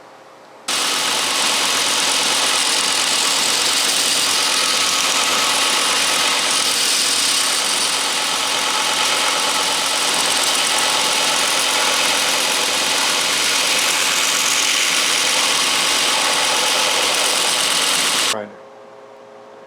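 A knife-making grinder bevels and cuts a wooden piece for rollers on a 41-inch Snapper lawnmower deck, giving a loud, steady, continuous machine whir that runs unbroken for about eighteen seconds, then stops abruptly.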